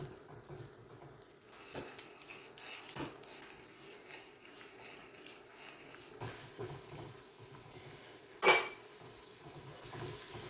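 Cashews and raisins fry together in a pan: quiet scraping and clinking of a stirring utensil against the metal, faint sizzling beneath, and one sharper scrape near the end, all fairly soft with no speech.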